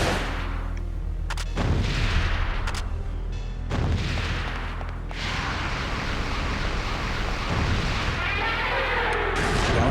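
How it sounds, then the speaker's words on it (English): Grenade launcher shots fired at a boss in the Parasite Eve 2 video game, several loud booming blasts spaced a second or two apart over a constant low rumbling game soundtrack, with no talking. "Whenever I see him open up his mouth, I'm going to fire a grenade down his throat."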